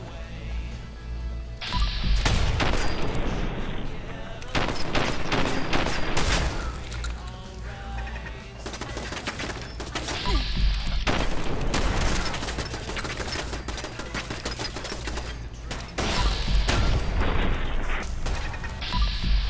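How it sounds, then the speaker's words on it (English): Turret gunfire in the VR game Fallout 4 sounds as rapid bursts of shots, loud and close, repeating in clusters with short pauses between them, along with mechanical clanks. "I do hear a turret."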